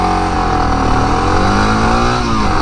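A dual-sport motorcycle accelerating hard from a standstill toward sixty, its engine roaring loud and continuous with rising pitch through the gears, close to the rider, no talking.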